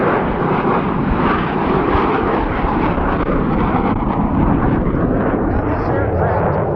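A fixed-wing aircraft's engine roars loud and steady at an Arizona air show near a taxiway, a dense continuous drone with someone talking over it throughout.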